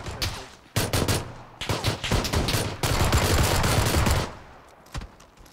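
Rapid pistol fire in PUBG, Glock shots cracking in dense bursts and near-continuous volleys, loud and close, easing off toward the end with a few scattered shots.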